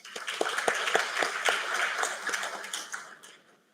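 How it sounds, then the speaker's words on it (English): An audience at a BTech college orientation applauds the parents present, a steady patter of many hands clapping that swells briefly and then fades away. "round of big applause for the parents who are present over here today"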